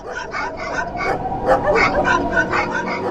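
Several dogs yip and bark in quick, overlapping bursts, a busy chorus that continues throughout at moderate distance.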